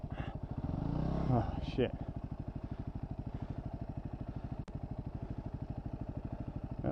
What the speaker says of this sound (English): Just spinning that fucking tire.